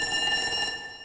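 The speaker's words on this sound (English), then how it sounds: "That alarm is a great example of how the game alerts players of an event." A game alarm in the video game Duskers warns of radiation: a loud, rapid electronic beeping tone pulses several times in quick succession, then cuts off near the end.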